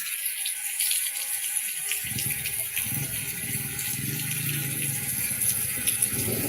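Rushing floodwater behind the municipal hall of Bayog, Zamboanga del Sur, during heavy rain, flowing steadily and loudly, a continuous gushing flow that swells in after a couple of seconds and keeps going.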